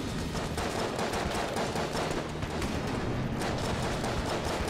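Rapid, continuous gunfire with explosive shots fills the scene in the video game Enter the Gungeon, dense and loud throughout with no pauses.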